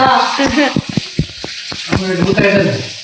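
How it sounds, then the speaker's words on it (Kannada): Bhutai (sardines) frying in a pan: a close, continuous sizzle and crackle running beneath a person talking, with sharp pops scattered throughout. "ಬೂತಾಯಿ ಫ್ರೈ ಮಾಡ್ತಾ ಇದ್ದಾರೆ"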